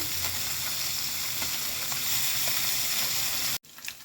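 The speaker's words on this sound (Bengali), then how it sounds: "মাছটা উল্টিয়ে দিচ্ছি এখন" Puti fish, just flipped, sizzles loudly and evenly in hot oil in a pan before the sound drops out abruptly and returns more quietly for the last moments.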